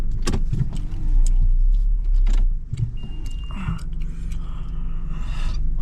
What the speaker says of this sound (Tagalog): maglilipat naman din ako ng sasakyan